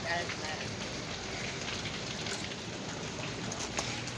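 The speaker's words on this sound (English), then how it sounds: "Sonic's being drenched in the rain." Steady rain falls throughout, a dense even hiss of drops hitting surfaces, continuous and fairly loud with no breaks.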